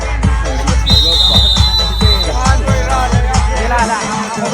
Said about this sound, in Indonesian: Peluit telah ditiup kembali oleh sang pemimpin laganya pertandingan